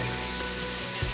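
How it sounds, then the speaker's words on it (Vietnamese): Heavy rain pours steadily near a temple site, a dense, even hiss of water lasting only a moment, with a brief low thump toward the end. "Giờ mưa quá mưa rồi."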